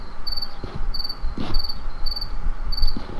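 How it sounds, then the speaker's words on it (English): Steady cricket chirping from the Blood & Bacon video game, repeating high pulsed trills with a constant night ambience and a few soft thuds, no talking. "The crickets be chirping."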